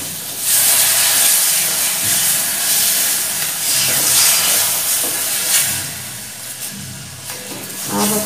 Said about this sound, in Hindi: इसमें हम दूध डाल देंगे धीरे धीरे करके।